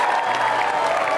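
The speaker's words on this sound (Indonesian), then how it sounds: "berikan tepuk tangan" Studio audience applause on an Indonesian dating game show stage, a steady dense wash of clapping with some crowd noise, filling the whole short moment at even loudness.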